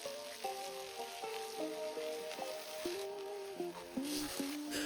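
Chicken and bell pepper stir-fry with sauce sizzling in a pan while being stirred: a soft, steady frying hiss beneath a gentle melodic tone.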